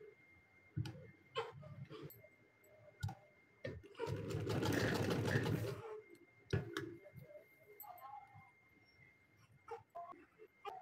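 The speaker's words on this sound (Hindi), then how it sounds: "अब मैं इनके यहाँ पे किनारों पे जो है ना वो सिलाई लगा लेती हूँ।" A sewing machine stitches along fabric edges while making a neckline design. A steady two-second burst of close mechanical whirring sits between quieter clicks and handling taps.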